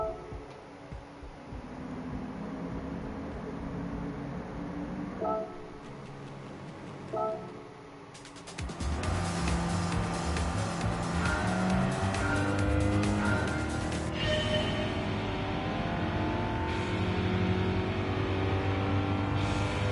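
Honda Fit Hybrid engine in Gran Turismo 7, quiet at first, then a loud burst of revving and acceleration with shifting engine tones and tyre noise carrying on steadily to the end.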